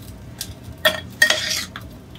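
Strawberry crepe batter swirled around a metal frying pan, giving a few short scraping and clinking bursts close by with quiet gaps between them.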